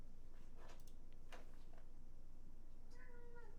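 A domestic cat meows and yowls in agitation, a few short cries scattered across a steady low hum, fairly faint and with no talking.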